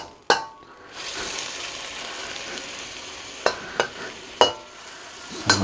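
Precooked shrimp sautéing in a pan, with a continuous close hiss of frying. A few sharp clinks and scrapes of a utensil cut through, mostly toward the end.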